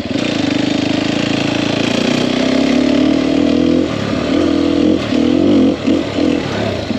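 A 2021 Sherco 300SEF four-stroke dirt bike engine runs loud and close, holding a steady throbbing note before several quick throttle blips and surges near the end.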